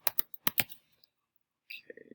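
Quick bursts of keystrokes on a computer keyboard as a name is typed into a message field, about six clicks close together, a pause, then a short soft flurry of further taps, close and fairly loud.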